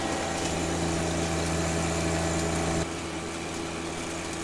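Tractor engine running while mowing overgrown brush with a brush hog, a steady mechanical drone with a constant hum that drops slightly in level near the end, no speech.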